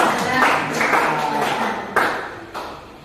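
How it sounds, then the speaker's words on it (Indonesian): An audience of teachers applauds a colleague after her question during a school presentation, a dense, steady patter of clapping with a few sharper claps standing out near the end. "Beri tepuk tangan untuk Bu Eri."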